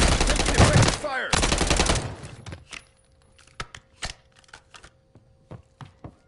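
Call of Duty Warzone gunfire: two loud dense bursts of rapid automatic fire up close, then a scatter of sharp, separate shots that sound more distant and sparse.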